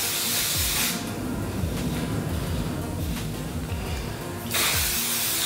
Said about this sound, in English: I always just grab my hairspray again and spray around it